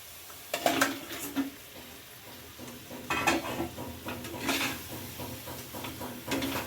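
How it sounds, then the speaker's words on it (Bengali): Marinated chicken goes into a pot with a little water for a Bengali-style silky chicken, bringing a sequence of clattering stirs and utensil knocks against the pan over a soft background hiss. "দিয়ে দিচ্ছি ম্যারিনেট করে রাখা চিকেন"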